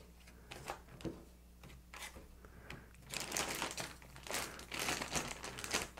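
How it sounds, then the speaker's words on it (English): A plastic bag being handled while fruit for strawberry rhubarb wine goes into it, close crinkling and rustling in irregular bursts that grow busier and louder in the second half. "And into the bag it goes."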